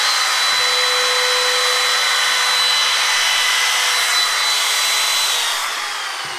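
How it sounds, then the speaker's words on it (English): A power tool fitted with a micro round cutter rounds over a wooden corner in a workshop. It gives a continuous high whine with a thin steady tone, then fades slightly toward the end. "let me show you the micro round cutter, because this is an absolutely fantastic cutter"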